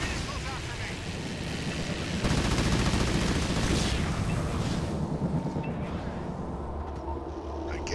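Dense, continuous gunfire and explosions from the Halo Wars 2 real-time strategy game, a loud sustained battle din with bursts and booms that swells after the first couple of seconds and stays heavy throughout.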